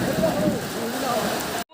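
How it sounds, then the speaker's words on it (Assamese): Wind-driven rain at a dol festival fair in Darrang, Assam, a steady broadband hiss of downpour and gusts filling the whole stretch, close and fairly loud, with voices faintly mixed in before it cuts off abruptly near the end. "দৌলৰ মাজতে একদম বতাহ বৰষুণ আহি গ'ল"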